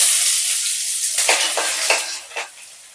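Cinnamon pieces, cardamom, cloves, asafoetida and ginger sizzle steadily in hot oil in a pan, with several sharp stirring scrapes and clinks on top, close and alone.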